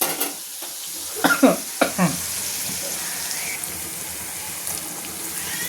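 Garlic and chili frying in a pan for a pigeon pea pod dish, a steady close sizzle with a few sharp stirring scrapes near the start.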